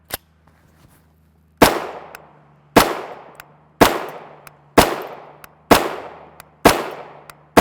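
A UTAS Mini 9 with a 6-inch barrel fires 115-grain FMJ 9x19mm Sterling steel-case rounds as six loud, sharp single shots. Each shot rings out briefly, and the shots are spaced about one second apart.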